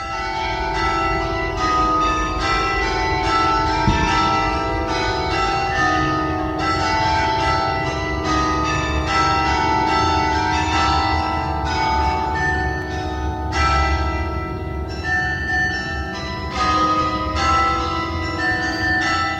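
The carillon of Saint-Germain-l'Auxerrois in Paris, recorded in 1969, ringing a continuous melodic sequence of overlapping bell strikes at an even, moderate loudness, with no voices.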